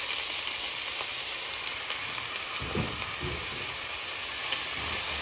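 Onion and pepper fry in olive oil in a pan, giving a loud, steady, close-up sizzle with faint crackles and no talking.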